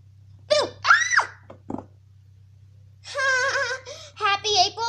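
A young child gives short startled cries and screams after being scared, a couple of sharp outbursts followed by higher, longer shrieks, loud and close over a low steady hum.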